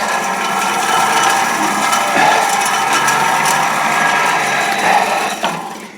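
Old Buffalo forge blower in a 1950s blacksmith's shop, cranked by hand so its gears whir and ratchet in a steady, close mechanical drone with a rising hum, running for about six seconds without talk before winding down.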